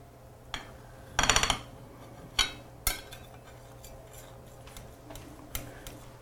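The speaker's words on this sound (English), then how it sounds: "The first piece is always the hardest to get out of a pie pan." A slice of pie is lifted from a high-edged pie pan, giving a few sharp metallic clinks and light scrapes of the server against the pan, fairly close and quiet with pauses between the hits.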